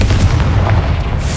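A Confringo spell explosion in the Hogwarts Legacy video game: a loud, sustained booming blast with heavy low rumble lasting the whole short clip.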